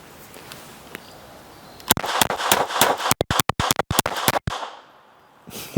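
Shots from a CZ 70 military surplus pistol in .32 ACP, a burst of sharp, loud reports fired in quick succession at close range with no talk over them.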